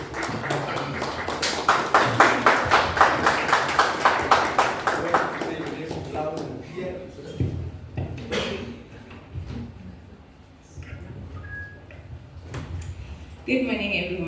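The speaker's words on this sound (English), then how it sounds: "Please, ladies and gentlemen, clap for" Audience applause at a youth debate event welcoming a speaker, a dense burst of clapping for about six seconds that fades, followed by quieter room noise and scattered sounds.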